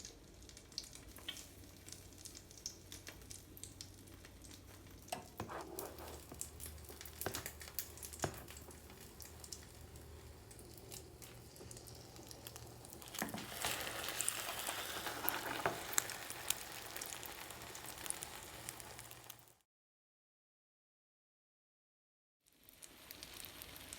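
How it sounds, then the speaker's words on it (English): Egg-dipped chiles rellenos fry in hot oil with a steady close sizzle and crackle that swells louder midway, with occasional stirring clicks, before a brief silent gap and then the sizzling resumes. "Now we want to dip our chiles into our eggs here, and then we're going to fry them."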